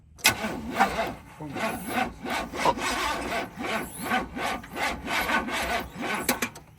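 An old classic truck engine is cranked over by its starter, giving a long run of rhythmic, grinding churning bursts that sound close and loud.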